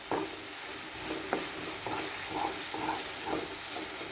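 Pumpkin halwa sautéed and stirred in a pan, with soft scraping strokes of a spoon at a slow, regular pace over a gentle frying sizzle, close and fairly quiet.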